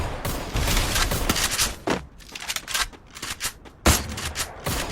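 Rapid bursts of gunfire in a shooting video game, including a headshot knock, come as loud clustered volleys and thuds separated by short gaps.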